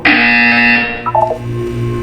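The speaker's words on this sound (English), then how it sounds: "When you hear the buzzer, look down at the floor." Harsh electronic buzzer in a puzzle video game featuring GLaDOS and Wheatley, a loud sustained tone that holds for about a second, then breaks into brief stuttering pulses before a lower hum continues.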